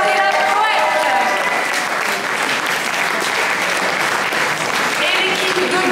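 Audience applause at a slam poetry contest, a dense steady wash of clapping from a crowd that lasts the whole stretch with a voice faintly underneath.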